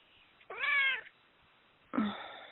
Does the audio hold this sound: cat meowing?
yes